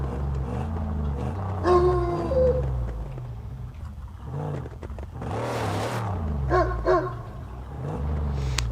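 A dog in the Mad Max video game barks several times over a loud low vehicle engine drone, the barks close and in short bursts.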